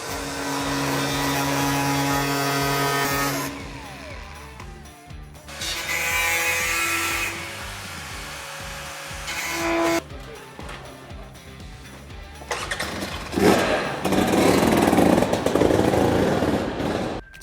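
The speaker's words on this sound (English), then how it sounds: "I'm using a metal cutting disc on my grinder" An angle grinder with a metal cutting disc cuts into the steel roof of a narrowboat, a loud whining screech that runs in several bursts separated by short pauses, with the pitch shifting as the blade bites and frees.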